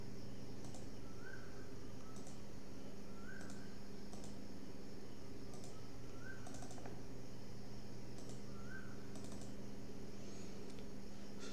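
Computer keyboard keys are pressed at an irregular pace, soft clicks spaced a second or two apart over a constant low room hum, with no talking.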